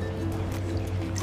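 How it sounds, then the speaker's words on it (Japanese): Juwari (100% buckwheat) soba noodles are rinsed under running tap water at home, making a steady, close splashing rush over a low hum. "今度流水で洗ってきます。"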